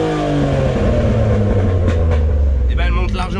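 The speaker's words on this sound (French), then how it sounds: "Si j'accélère à fond du ralenti," A BMW 325i bi-turbo engine, injectors tuned, loud and close, rising continuously under full throttle from idle, its harmonics climbing steadily as the revs soar past the rev limiter.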